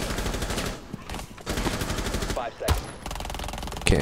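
Rapid video game gunfire from Rainbow Six Siege, bursts of automatic shots crackling in quick succession across the whole stretch, with a few brief pauses between volleys.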